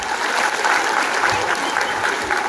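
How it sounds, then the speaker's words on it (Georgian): An audience applauds at a Georgian village gathering, a dense, sustained clatter of many hands clapping at close range, steady and unbroken with only faint voices beneath. "მოდი აპლოდისმენტებით გავამხნევთ."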